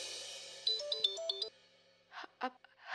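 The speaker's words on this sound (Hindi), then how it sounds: "माँ का फोन।" A phone ringtone plays a short melodic run of tones for about a second, then stops; a few brief rustles follow.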